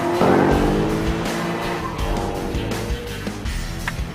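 A car drifting hard with its tires squealing, loud and close, over a roaring engine, the screech rising and falling through the whole short burst.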